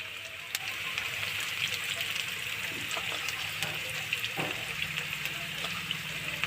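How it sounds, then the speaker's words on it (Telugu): Poha, flattened rice, fries with salt in a pan as a steady, close, hissing sizzle with scattered crackles and occasional light stirring scrapes throughout. "తగినంత సాల్ట్ ఒక టూ మినిట్స్ వేగాలి ఫ్రెండ్స్ ఇవి"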